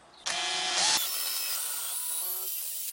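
A large countersink bit drills into the workpiece, its loud high-pitched whine starting abruptly, then settling into a steady spin before stopping, with no voices.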